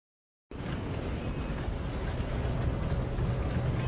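A steady, dense rumble of a moving train in Red Dead Redemption 2 begins abruptly after a short silence, then continues loud and unbroken as a broad low roar with rattling texture, no voices over it.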